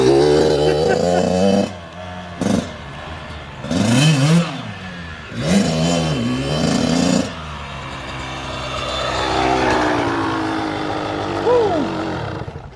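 A Kawasaki KX112 supermoto dirt bike engine revs hard in several loud, close bursts with rising and falling pitch, then settles into a lower, steadier running note.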